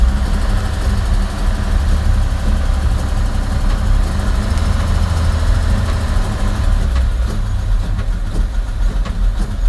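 The engine of a 1953 Chevy truck runs steadily with a loud, low rumbling idle close by, picking up slightly with throttle, with no talk over it.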